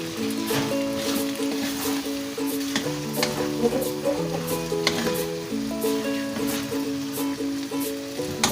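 Eggs sizzle and fry in a pan as they are stirred into Pakistani-style spicy chicken macaroni, a steady close crackle with scraping stirring and music playing underneath.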